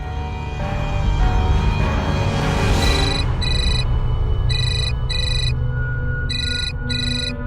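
A phone ringtone chirps in repeated short bursts in pairs over a steady background hum, fairly loud and close.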